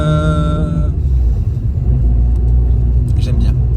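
An Abarth 595 Competizione with its 180 hp engine gives a steady, deep exhaust rumble from inside the car, a low droning tone that fades into a broad, continuous road-and-engine roar.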